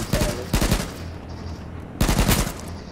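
Gunfire in the battle royale game H1Z1 comes in short automatic bursts, three rapid volleys separated by brief pauses, loud and close.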